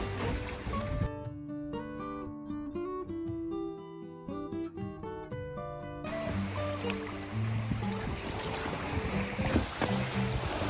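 A sailboat's motor drones steadily while under way on the sea, a continuous hum mixed with wind buffeting and water wash, with no one talking.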